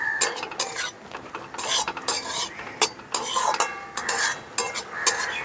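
A utensil scrapes and clinks against a pan while vegetables with chili sauce are stirred, giving irregular metallic taps and scrapes over a faint sizzle.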